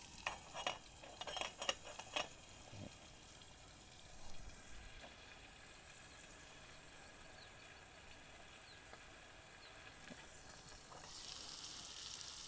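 Eggs frying in a covered pan for a breakfast dish, a steady soft sizzle under the lid after a few clinks and stirring noises at the start, fairly quiet and with no talking.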